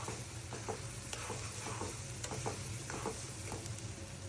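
Beef fries in a pan with dried chili flakes, giving a steady sizzle with repeated scraping stirs of a utensil throughout, close up.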